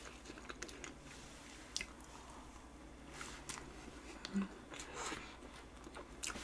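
Someone eats a Valentine's Day chocolate cake up close, with soft chewing and squishy bites and an occasional sharper crunch against a quiet room.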